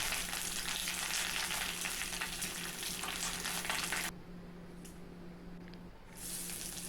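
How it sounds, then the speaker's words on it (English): Curry leaves frying in hot oil in a pan make a dense, steady crackling sizzle that drops sharply midway, quieter for a couple of seconds, then swells back up. "Heat 1½ tablespoons of oil in the same pan and fry some curry leaves."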